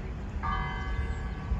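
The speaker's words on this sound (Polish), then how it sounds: "Jakieś dzwony jeszcze nam tu" A church bell rings in the town of Risan, Montenegro, giving one sustained, ringing tone that starts partway through and carries at moderate volume over outdoor background noise.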